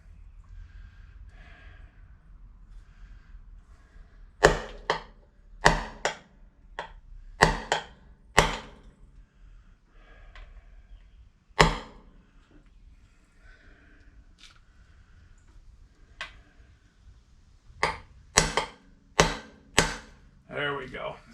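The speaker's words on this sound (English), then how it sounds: "And I finally picked up this seal driver." A seal driver taps a front wheel bearing seal into the hub: sharp, close metallic knocks in irregular clusters of several blows, separated by quiet stretches with faint handling noise.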